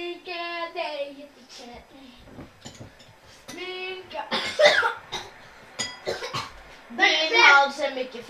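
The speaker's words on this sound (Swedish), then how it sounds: "du hostar som en fett fågel" Coughing from a young person in a casual home setting, several bursts of harsh coughs mixed with chatter, clinking dishes and a bit of laughter, close to the microphone.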